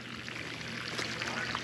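Water pours steadily from a newly pulled 200-foot submersible well pump with a failing motor, a continuous close splashing flow with no talk.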